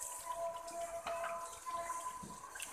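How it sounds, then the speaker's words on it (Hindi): About a cup of water is poured into a cooking pot of half-cooked chicken for masoor daal, giving a faint, steady splashing trickle with a small clink partway through. "1 कप के करीब मैं इसमें पानी डाल रही हूँ।"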